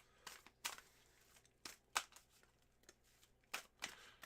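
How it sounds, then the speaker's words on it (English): Tarot cards are shuffled in several short, crisp riffling bursts separated by brief pauses, close and fairly quiet with no speech. "Here are your 9 official shuffles there, Cozy"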